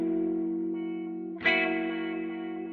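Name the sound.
wah effect from Source Audio One Series EQ2 guitar pedal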